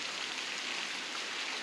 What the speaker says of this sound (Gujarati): તો જોઈ લો આજનો વરસાદ અમારે ગામમાં, મારા ગામમાં વરસાદ છે.